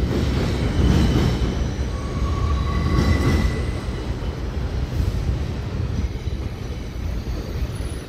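A New York subway train on the D and F lines runs steadily with loud low rumble and rattling wheels, a few faint squeals of wheel on rail rising above it, continuous throughout with no voices.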